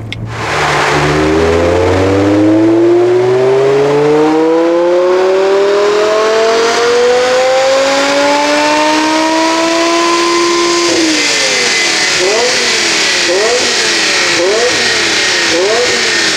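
A car engine revs hard on a dynamometer test bench, its loud tone climbing steadily through the gears, then wavering up and down in repeated bursts near the end.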